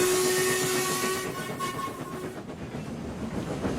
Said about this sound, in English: and then laid on the whistle chain once more.